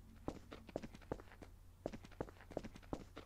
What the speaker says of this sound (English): There's absolutely no sound other than the doors we open and the sounds of our footsteps